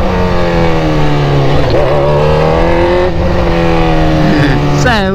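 A BMW car with an unbearably loud engine drones and howls continuously at close range, the pitch rising and dipping through gear changes with a sharp rev at the end.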